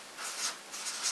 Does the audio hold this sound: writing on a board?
yes